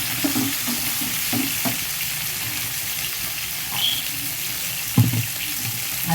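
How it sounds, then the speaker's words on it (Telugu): Okra pieces frying with onions in a pan, giving a steady close sizzle broken by a few scraping stirs and clinks of a spoon. "ఇప్పుడైతే మనం బెండకాయలు వేసేస్తున్నాం. బెండకాయ ముక్కలు కూడా కొంచెం వేగనిద్దాం."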